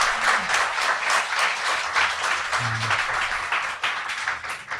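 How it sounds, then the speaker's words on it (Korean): A studio audience at a Korean current-affairs talk show breaks into sustained, even applause, a dense clapping texture that holds steady throughout. "자, 박수 한번 부탁드립니다."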